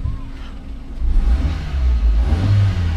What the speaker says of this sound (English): Let you hear. Can you hear the engine?